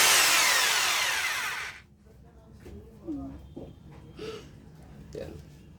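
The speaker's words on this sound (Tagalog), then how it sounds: "Kung gusto mo nang walang humming na drill lang, ordinary drill" A Mailtank rotary hammer drill runs in ordinary drill mode, spinning with a loud steady whine for nearly two seconds before cutting off, after which someone talks over quiet handling noise.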